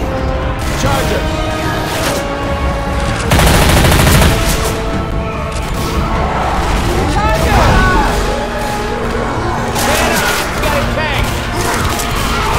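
Rapid gunfire bursts and fusillades from the video game Left 4 Dead, played with a SpongeBob mod, run almost continuously with crashes and booms, heaviest around the fourth second, while in-game voices call out over the shooting.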